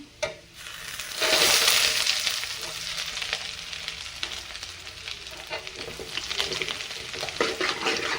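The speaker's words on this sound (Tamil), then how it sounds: "இப்போ வந்து ஆயிலில் வந்து வெங்காயம் போட்டுக்கிறேன்" Onions hit hot oil already holding fried garlic and burst into a loud sizzling rush, then settle into a steady frying hiss broken by stirring clatters and scrapes, close up.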